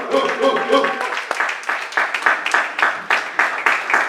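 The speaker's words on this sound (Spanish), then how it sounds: "Y eso merece un aplauso al Señor." A church congregation claps during a worship service, a fast crackling patter that swells and continues steadily after a voice speaks over the opening moments.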